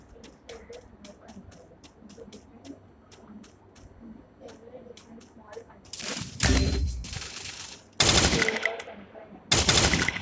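Video game gunfire: a rapid series of sharp single shots, then loud sustained automatic bursts in three blasts, with people talking quietly underneath.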